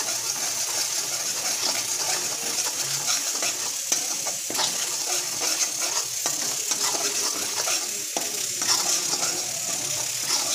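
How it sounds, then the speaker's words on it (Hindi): Fasting halwa made with ghee stirred steadily as it fries in a pan, a continuous sizzle with repeated scraping strokes of the spoon, close and fairly loud, no voices. "इसको हम बराबर हिलाते हुए चलाते रहेंगे।"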